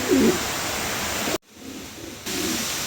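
Pigeons at a showroom market, a continuous close wash of bird noise with a short low cooing burst near the start and a sudden drop in level partway through.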